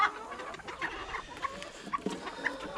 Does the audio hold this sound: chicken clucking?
yes